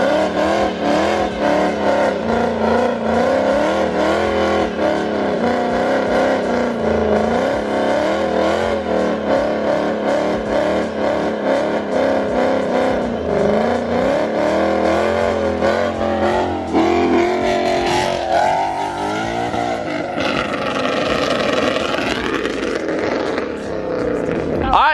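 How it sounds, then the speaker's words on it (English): A Ford Mustang GT performs a burnout, its engine roaring loud and sustained at high revs with wavering pitch, tires screeching underneath, while people talk over it throughout. "That was Ray's burnout"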